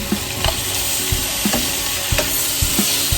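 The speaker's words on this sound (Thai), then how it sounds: "ผัดทุกอย่างให้เข้ากัน หมูกรอบ เคลือบด้วย ผัดกะเพรานะคะ" Crispy pork with holy basil stir-fried in a pan, a steady close sizzle broken by repeated scraping and clacking strokes of the spatula.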